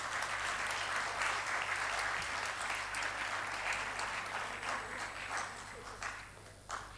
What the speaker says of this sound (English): Please, huge round of applause needed.